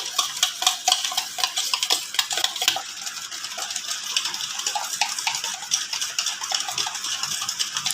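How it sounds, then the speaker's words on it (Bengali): An egg and sugar being beaten together in a bowl for a simple cake, a fast, rhythmic clatter of a whisk or spoon against the bowl, close and steady, with the strokes blurring together in the second half. "দিয়ে এবার ফেটাতে থাকবো এইভাবে ফেটিয়ে ফেটিয়ে চিনিটা আমি মিশিয়ে নেবো ডিমটার সাথে"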